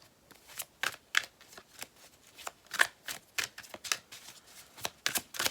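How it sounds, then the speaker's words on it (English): Tarot cards being shuffled by hand: a steady run of crisp, close riffling flicks and soft card slaps repeating for several seconds, with no talking. "Let's get a couple of tarot cards as well."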